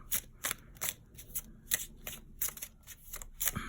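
Tarot card decks are riffled and shuffled close up, a steady run of crisp papery flutters repeating roughly every half second.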